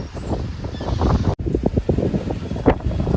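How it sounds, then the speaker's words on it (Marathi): Strong gusty wind buffets the microphone in a loud, continuous roar with surging bursts and rustling, heard close and alone. "असला जोरात वारा आला ना, बापरे"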